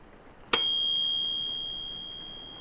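A kitchen timer bell signals that a cake is done, a single bright ding that rings on and slowly fades in a quiet room.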